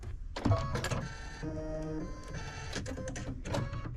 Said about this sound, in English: I sure do like my auto threader.